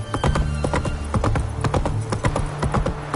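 Roach the horse galloping hard in the Witcher 3 video game on PS5, loud close hoofbeats in a fast repeating rhythm with a whinny mixed in.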